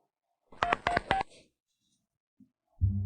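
A telephone number dialed in a dramatic scene: three quick touch-tone beeps in a close row, then a short pause before a low hum begins.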